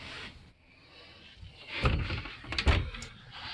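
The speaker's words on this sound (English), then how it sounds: "Little sliding door between the bathroom and the bathroom sink." A small sliding pocket door between the bathroom and the sink area of a 2021 Seneca 37TS motorhome being rolled and shut, a low rumbling slide followed by two or three close knocks, with no talk.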